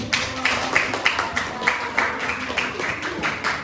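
A school class claps for a group of students after a presentation on forest fires, a short burst of uneven, somewhat sparse clapping with distinct individual hand claps, fairly close.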